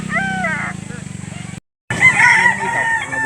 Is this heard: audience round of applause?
no